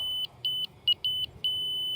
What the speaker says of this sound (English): And then as we go into level, it starts beeping faster.